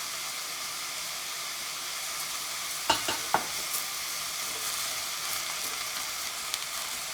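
Onions frying in roasted duck fat inside a pot give a steady, faint sizzle, with a couple of brief clinks or stirring knocks near the middle and no voices.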